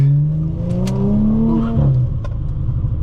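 A 2018 Audi S4 3.0T powering through a corner, its engine note rising and shifting with a faint tire whir, loud and close with no voices over it.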